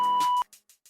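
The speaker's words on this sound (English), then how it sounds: "leave your question at the sound of the beep" A voicemail-style beep, a single steady electronic tone lasting under half a second, followed by a few faint echoing taps fading out.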